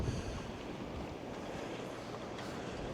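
Strong wind whipping across a beach, a steady loud rushing roar with microphone buffeting and surf in the background, no voices.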